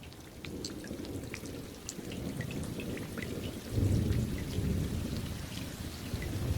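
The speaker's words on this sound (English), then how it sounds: "This happens every time a raindrop hits a puddle." Steady rain falls, with scattered drops pattering and splashing against a wet surface, while a low roll of thunder swells midway and fades.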